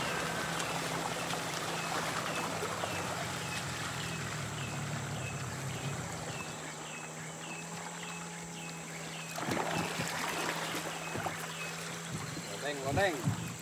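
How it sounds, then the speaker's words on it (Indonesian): A wooden river boat arrives on the Sibau River, its motor hum steady under flowing water and splashes, with a voice briefly heard near the end. "Ini perahu saya sudah sampai."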